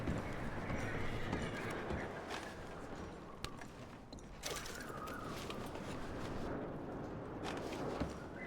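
Horses in Red Dead Redemption 2 walk with soft, fairly quiet hoof clip-clops over a steady outdoor ambience, and a brief whinny is heard.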